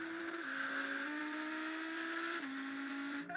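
An Audi RS with a V10 engine accelerating hard in a drag race, a steady high engine tone climbing through the revs with one gear-change dip partway, heard from a distance inside the car without talk.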